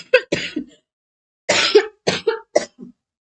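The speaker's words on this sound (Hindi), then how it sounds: "सॉरी फ्रेंड्स, खांसी बहुत ज्यादा हो रही है।" A person coughs alone in a quiet room: a quick pair of coughs, a pause, then a harsher cluster of three or four coughs trailing into a soft throat sound, close and fairly loud.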